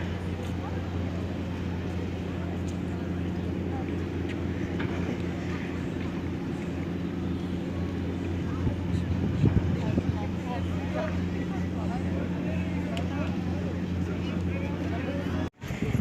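A sea bus passenger ferry passes on the Istanbul waterfront, its steady low engine hum and water wash sustained under harbor ambience, briefly swelling midway before a short dip near the end.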